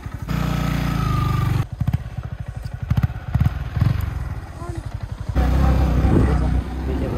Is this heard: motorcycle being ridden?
yes